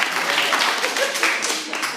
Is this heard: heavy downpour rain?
no